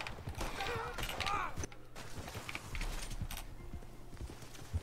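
Horse hooves in the video game Red Dead Redemption 2 clop in irregular rhythm amid creaks, gunfire-like thuds and excited voices talking over the action.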